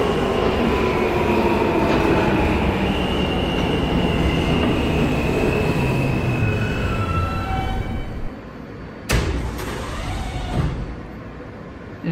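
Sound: subway train running, from a video game

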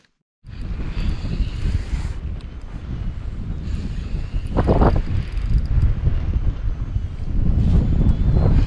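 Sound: strong wind of an approaching hurricane while fishing

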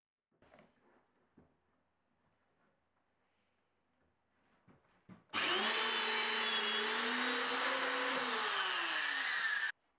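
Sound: drill drilling dowel holes for a bandsaw stand

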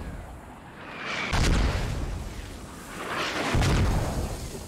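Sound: mortar rounds exploding in video game Squad Ops

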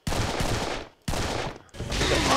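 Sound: gunfire from Serious Sam 3 video game

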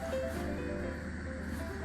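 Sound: air hissing through inflatable mattress valve

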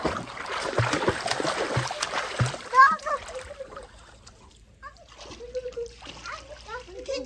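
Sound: child swimming and splashing in a villa pool

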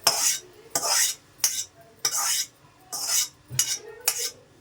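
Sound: coriander being roasted and stirred in a pan

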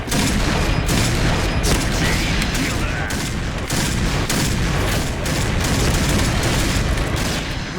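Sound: Barrett rifle gunfire in Point Blank video game

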